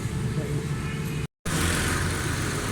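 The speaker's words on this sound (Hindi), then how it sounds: "ये माशाल्लाह गाड़ी स्टार्ट है, बिल्कुल स्मूथ है, साउंड भी ठीक है, RPM बिल्कुल ठीक है" Suzuki Mehran car engine idling steadily after a tune-up and oil change, a continuous near rumble with a brief dropout in the middle.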